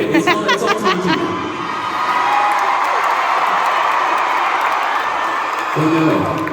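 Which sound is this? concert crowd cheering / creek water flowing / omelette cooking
concert crowd cheering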